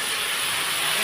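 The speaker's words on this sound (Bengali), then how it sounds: "এখন একটু তেল দিয়ে দেবো।" Oil heating in a hot wok, ready for tempering a Bengali jute-leaf and lentil dish, gives a steady, loud broadband hiss and sizzle that stays even throughout.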